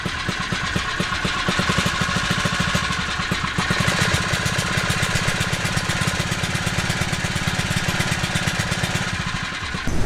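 A Phatmoto Rover 79cc four-stroke motorized bicycle engine runs steadily with the throttle opened, a loud continuous buzzing putter throughout with slight swells in revs and no talking.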